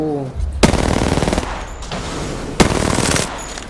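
Automatic gunfire from the Apex Legends video game, two loud bursts of rapid shots about two seconds apart, each ringing on for under a second, with steady in-game background noise between them.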